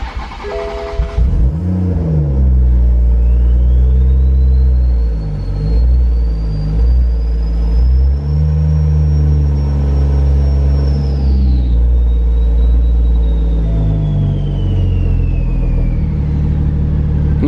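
A tuned 1.5JZ engine runs in a BMW E36, a loud close deep rumble that steadies at idle, with a rising and falling whine and occasional revs over about seventeen seconds.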